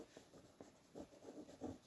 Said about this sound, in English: it's either the black pencil going over the surface